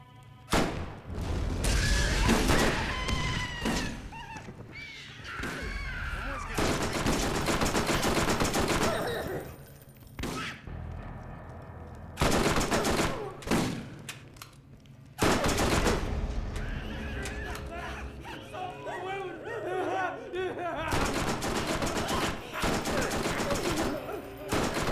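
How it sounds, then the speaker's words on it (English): Bursts of rapid SMG fire in the video game Borderlands crackle loudly in several long volleys separated by short pauses, with game effects layered in between. "let's roll with SMG for a while"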